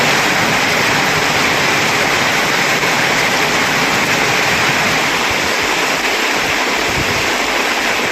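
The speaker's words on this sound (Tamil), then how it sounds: "3 நாட்களாக நீடித்த மழையால் சாலைகளில் கடல் நீர் போல் வெள்ளம் பெருக்கெடுத்து ஓடியது" Floodwater rushing along roads after three days of heavy rain, a loud, dense, unbroken roar of moving water that stays steady throughout.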